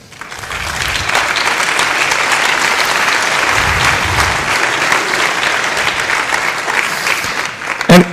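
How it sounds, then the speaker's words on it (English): A conference audience at FOSDEM, the free and open source software event, gives loud, sustained applause that swells quickly and holds steady for several seconds, ending with a sharp knock. "So you should actually give yourselves a huge round of applause for that."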